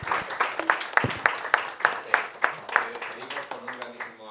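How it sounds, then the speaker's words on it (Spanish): An audience at a family-policy leadership event claps in a steady, rhythmic unison beat, sharp regular claps with a voice talking over them. "con un grandísimo aplauso"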